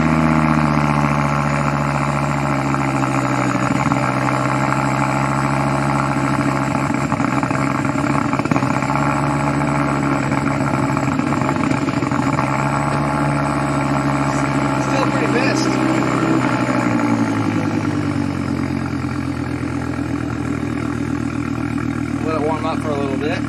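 Engine of a Volvo V70R wagon idles steadily and loudly, freshly started after its intake was reassembled, a continuous close hum with slight shifts in pitch throughout.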